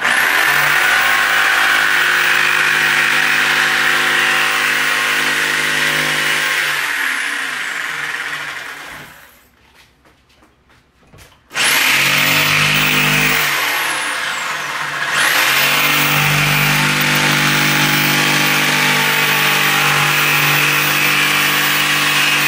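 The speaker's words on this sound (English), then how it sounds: "with practice, you can cut your own, like, initials out and stuff with a jigsaw" A jigsaw cuts wood with a loud, steady buzzing whine that drops away for a few seconds midway, then surges back and carries on at full speed.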